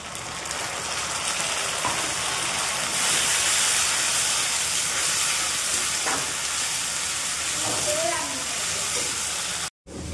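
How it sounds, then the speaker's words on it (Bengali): Browned onions and spice paste fry in a pan for a village-style mutton head dish, giving a constant loud sizzling hiss that runs for about ten seconds before cutting out briefly near the end. "পেঁয়াজগুলো লাল লাল করে ভাজা করে তারপরে মশলাটা দিয়ে দেবো"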